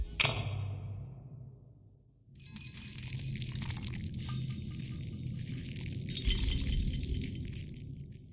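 Twinkling mineral-resource cue from the video game Slime Rancher 2: a bright chiming shimmer opens, then a sustained glittering, sparkling layer plays over a low ambient rumble, fairly steady and without speech.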